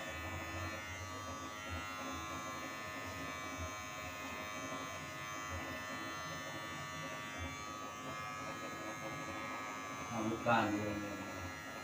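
Electric hair clippers buzz steadily while cutting hair for a fluffy mullet hairstyle, a close continuous hum with brief louder moments, under occasional talking.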